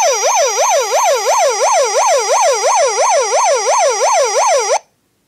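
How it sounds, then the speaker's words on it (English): A toy 2000 Hess fire truck's loud S1 siren yelps in a fast, regular up-and-down warble, roughly three cycles a second, for nearly five seconds before cutting off sharply. "This is a S1 siren"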